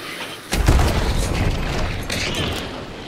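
A frag grenade bursts in the game Hunt: Showdown: a sudden heavy boom after a brief quiet moment, then a rumbling, crackling tail that lingers for a few seconds.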